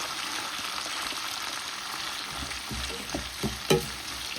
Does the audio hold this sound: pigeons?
no